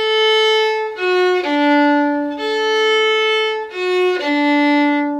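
Fiddle playing the second phrase of the traditional Scottish air Arran Boat Song, a slow, clear solo line of sustained bowed notes that repeats the same short sequence twice.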